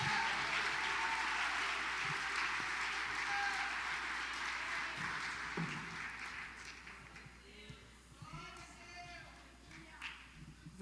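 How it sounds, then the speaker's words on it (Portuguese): A church congregation applauds at a healing and deliverance seminar, steady dense clapping filling the room for most of the stretch, then thinning and tapering toward the end as voices rise over it. "aplaudindo ao Senhor Jesus."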